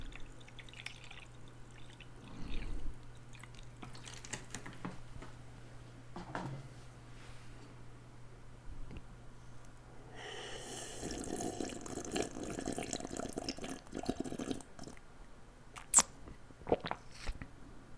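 Liquid being poured in a quiet ASMR setting, a faint trickling stream that starts partway through after soft scattered handling noises.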